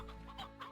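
Hens clucking in Slime Rancher, a short burst of soft, repeated clucks over a steady low game hum.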